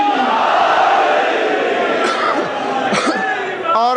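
A large crowd at a Shia religious majlis roars the Naara-e-Haidari chant in unison, a loud sustained massed shout that fades slightly before individual voices call out near the end.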